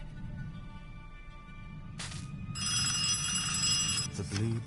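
A telephone in the video game Ad Infinitum rings with a bright electronic trill, two bursts cutting in over a low rumbling ambient drone, no talking.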